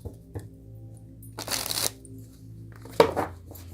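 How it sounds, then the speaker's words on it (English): Tarot cards being shuffled and pulled, with a short riffling burst partway through and a sharper slap of cards later, fairly close and quiet, with no talking over it. "Let's pull 3 cards on that card."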